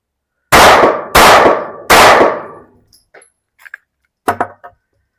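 Three loud gunshots crack in quick succession at an outdoor shooting range, each with a sharp onset and a long decaying echo, followed by fainter metallic clinks and a softer clatter.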